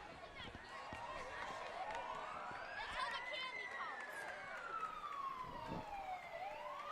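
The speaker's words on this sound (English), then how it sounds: "Sirens are coming." Emergency vehicle sirens wail during a small-town Booster Days parade in Hudson. The rising and falling tones sweep slowly and sound fairly distant, over a steady crowd murmur.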